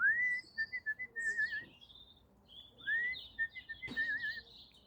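A person whistles in repeated short rising phrases and trills, fairly clear and nearby, with a faint background hush and a brief thump.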